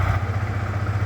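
A Yamaha R15 V4 motorcycle engine idles just after starting, a steady close-up mechanical thrum with a rapid even pulse and a light clatter, running alone without speech.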